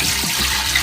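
Water pours steadily into the inner pot of an 8-quart Instant Pot Duo Plus, a brief, close, continuous splashing rush with no talk.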